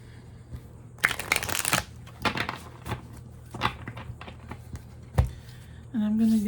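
Playing cards riffle and snap in several quick shuffling bursts with pauses between, close up, followed by a short tonal hum at the end.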